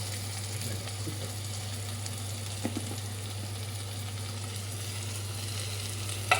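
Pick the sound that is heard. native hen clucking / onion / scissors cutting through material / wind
onion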